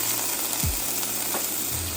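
Beef strips for chow mein sear in a hot skillet with a steady, dense sizzle and crackle, close and fairly loud, with a faint stir or two and no talk.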